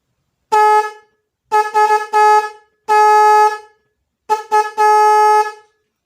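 A snail-type car horn honks in a series of blasts, one long, then quick double and triple toots, loud and near with silence between.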